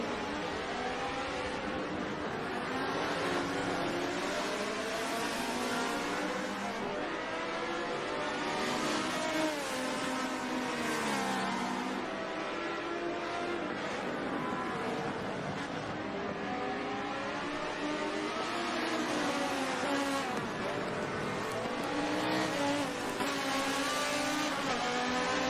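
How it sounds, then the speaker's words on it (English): Nissan GTR and Lamborghini Superleggera GT race cars lapping Sebring in Blancpain GT America, engines loud and continuous throughout with shifting pitch, overlapping buzz of multiple cars passing and revving, no talk over it. "Trying to close the gap on CA Advantage in the Lamborghini Superleggera."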